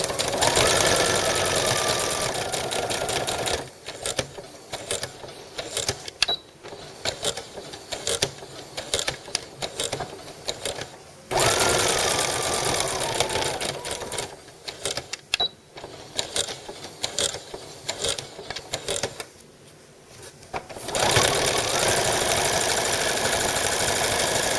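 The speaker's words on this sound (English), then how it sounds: "Okay, time to sew." A sewing machine stitches a thread belt loop onto a dress, running in loud, steady whirring bursts broken by brief pauses and restarts.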